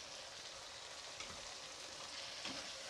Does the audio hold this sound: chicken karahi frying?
yes